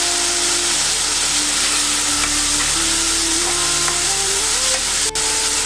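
Green chillies fry in hot oil alongside karonda for a spicy sabzi, giving a loud, steady sizzle that stays constant from start to finish, with faint stirring sounds and no talking.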